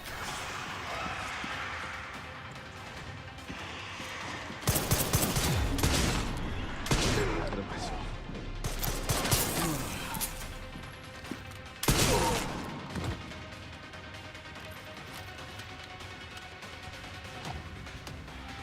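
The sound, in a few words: stacked grenade explosion in the video game Resident Evil Requiem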